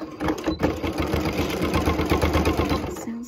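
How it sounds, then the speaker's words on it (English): A sewing machine stitches an apron with a towel attached through many layers of fabric, a steady loud mechanical whirring with a fast rapid chatter running continuously throughout, with a brief change near the end. "this machine is supposed to be able to sew it through 16 layers of fabric"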